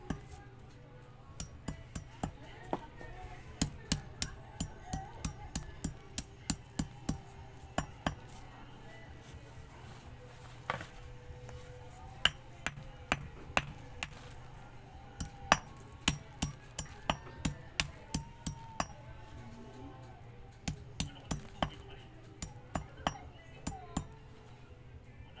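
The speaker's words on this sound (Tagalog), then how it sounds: "pinupukpok ko guys. Bato po to." Someone pounds a stone with a hammer to break it into soil for plants, sharp close clinking strikes coming in irregular bursts and pauses throughout, with faint talk in the background.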